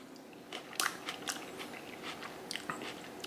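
Close, quiet bites into a cherry tomato in a tomato salad dressed with malt vinegar, giving a few crisp crunches followed by soft, moist chewing.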